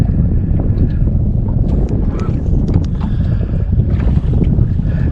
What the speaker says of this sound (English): The wind's blowing too hard.